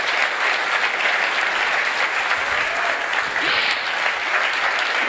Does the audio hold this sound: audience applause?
yes